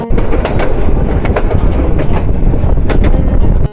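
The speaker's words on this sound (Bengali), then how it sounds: "এই লোকাল কমিউটার ট্রেনে জার্নি করে একটা মজা হচ্ছে" A local commuter train in Jamalpur, Bangladesh, heard from on board, rumbles loudly and close along the rails with a rhythmic clickety-clack of wheels over joints, no voices.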